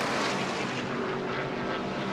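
A NASCAR Nationwide stock car at full throttle on a qualifying lap, a loud continuous engine roar that fills the whole clip with no pause.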